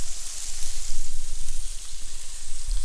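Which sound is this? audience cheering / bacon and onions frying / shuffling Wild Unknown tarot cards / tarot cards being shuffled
bacon and onions frying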